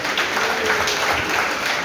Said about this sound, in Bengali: একটু জোরে হাততালি স্যারদের জন্য।